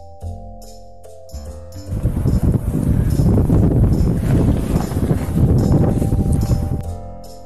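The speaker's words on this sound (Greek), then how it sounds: "Αέρας." Strong wind gusts loudly and steadily for several seconds, a broad rushing roar that swells in and fades out, with a soft musical tone underneath before and after.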